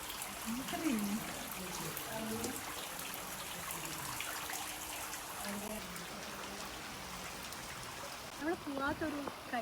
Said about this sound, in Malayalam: മുമ്പ് തുടങ്ങിയ മഴയാ. അതെ അതെ, പക്ഷെ ഇതുവരെ നിന്നിട്ടില്ല.